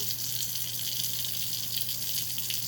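Hands are washed with soap under a running tap, with a steady, even rush of water throughout and no voices.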